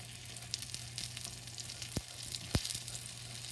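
A low-carb keto grilled cheese sandwich fries in butter in a pan with a soft, steady sizzle, broken by a couple of sharp knocks as it is moved or flipped, close and fairly quiet.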